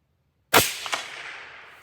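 A single rifle shot fired at a paper target during zeroing cracks sharply after a moment of silence. A brief metallic echo follows, then a long reverberant decay fades out.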